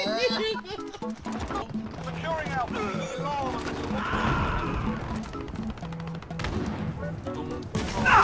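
Bursts of Call of Duty gunfire and a grenade blast crackle under excited, overlapping voices, with sharp repeated shots throughout.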